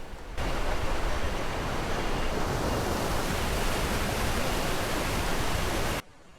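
Tumpak Sewu waterfall in the valley roars as a dense, loud, unbroken wash of noise that starts abruptly and holds steady for about six seconds before cutting off.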